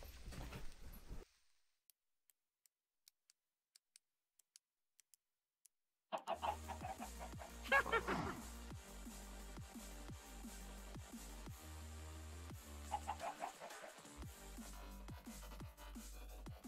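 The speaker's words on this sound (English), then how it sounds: "Oh, but my chickens are still here." Chickens clucking in the Minecraft video game, short scattered clucks that stop briefly into near silence before game music and busy sound return over the rest.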